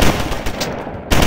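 Loud, dense automatic gunfire from a WWII-era video game set in Normandy, with a sustained burst of rapid shots, a brief thinning near the end, then heavy firing again.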